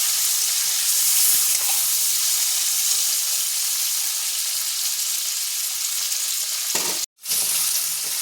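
Chicken pieces lightly frying in hot oil, a loud, steady close sizzle with faint stirring, cut by a brief dropout near the end before the sizzle resumes.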